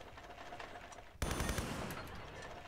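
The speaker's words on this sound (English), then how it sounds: "Ooh, that gun sounds so good." Video game gunfire from Tomb Raider III starts abruptly about a second in, then continues as a dense, loud burst of rapid shots over steady background game ambience.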